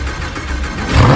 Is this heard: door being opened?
no